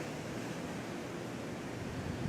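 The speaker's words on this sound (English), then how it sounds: "the wind is blowing sideways for some reason" Steady outdoor wind blows in a broad, even rush with gusty buffeting on the microphone, faint and constant throughout with no voices.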